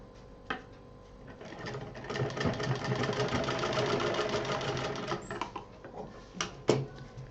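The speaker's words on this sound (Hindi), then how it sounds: "इसको यहाँ पे सिलाई कर देंगे पहले, ताकि ये मजबूती से जुड़ा रहे।" Sewing machine stitching a fabric loop in place on a children's cloth wardrobe, a steady mid-pitched mechanical whir with rapid needle rhythm that builds, holds through the middle and trails off, with a few sharp clicks near the end.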